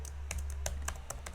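Keystrokes from typing code on a computer keyboard, a quick irregular run of about seven distinct clicks close by over a steady low hum, with no talking.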